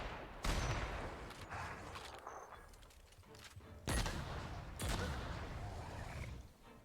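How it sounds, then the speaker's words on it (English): Grenade blasts in the shooter game The Outer Worlds: several sharp explosive bursts, roughly three heavy booms, with crackling gunfire between them at moderate loudness. "I like the sound of the grenade."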